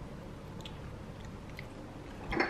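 Close-up biting and chewing of coconut cookies in a condo, steady soft crunching over a low room hum, ending in a louder, crisper bite.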